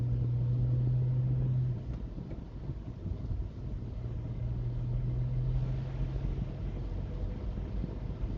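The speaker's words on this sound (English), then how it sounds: "Lovely gear changes." A car being driven with gear changes, a low engine rumble that dips and rises again as the gears shift, with wind noise over the microphone.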